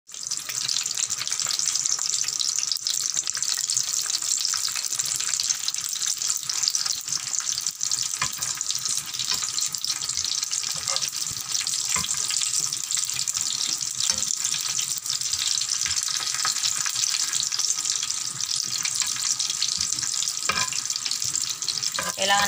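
Danggit, dried fish, frying in a pan gives a steady, loud bright sizzle and crackle that runs unbroken throughout, with small pops and no talking.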